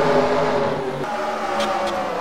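Race car engines drone loud and steady at night on the Bristol short track in NASCAR Racing 2003, a dense roar of several cars running together with little change.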